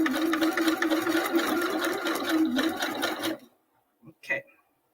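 A sewing machine runs a zigzag stitch on a light fabric bag, with a fast steady whirring hum that stops abruptly, followed by a couple of brief soft clicks.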